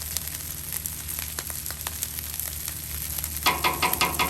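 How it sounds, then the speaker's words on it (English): Butter sizzling on a Blackstone flat-top griddle, a continuous crackling fry with scattered pops that grows louder and busier for the final second. "I'm going to butter up my griddle a little bit"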